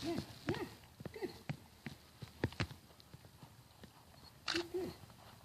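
Hooves of a heavy white horse clip-clop in an uneven walking rhythm during a riding lesson, with a nearby whinny toward the end and an instructor talking in the background.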